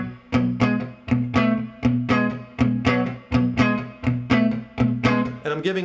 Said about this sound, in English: And I'm giving it a heavy palm mute, kind of like give it that chugging sound.